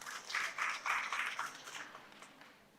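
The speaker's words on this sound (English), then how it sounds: "A round of applause to St. Michael's King Harper." Audience applause at an interfaith youth forum on integral ecology, a dense wash of many hands clapping that swells and pulses for a few seconds, then gradually thins and fades.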